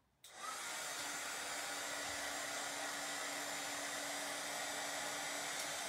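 A hair dryer blows steadily on freshly painted wood for a large decorative block, switching on after a brief moment and then holding a loud, continuous whooshing hum throughout.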